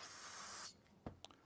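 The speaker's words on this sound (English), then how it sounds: "I'm going to go ahead and clean that off again with my brake cleaner." An aerosol can of brake cleaner sprays in one short, loud hiss during work on a Mercury 9.9 outboard's shift shaft, followed by a few faint clicks.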